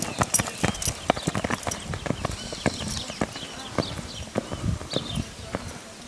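Lusitano horse hooves clip-clop in an irregular rhythm on hard ground, sharp distinct strikes close by, with some voices in the background.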